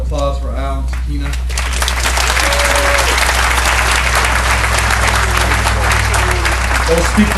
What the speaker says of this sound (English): We have another round of applause for Al and Sakina.